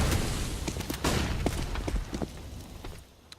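Rapid pistol shots crack and boom in a Counter-Strike: Global Offensive match, a dense burst of gunfire that thins out and fades after about three seconds.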